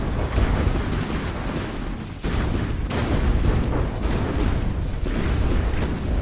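Explosions in the naval combat game From the Depths during a battle between brawler warships, a dense continuous rumble of booms and bursts, loud and sustained with a sharp shift partway through.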